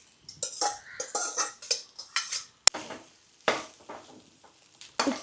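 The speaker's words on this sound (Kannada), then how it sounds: "ಅನ್ನನೂ ಹಾಕ್ಕೊಳ್ತಾ ಇದ್ದೀನಿ." Cooked rice scooped with a utensil into a pot or dish at home, heard as a series of close scraping, clinking strokes of metal against cookware with short pauses between them, no voices.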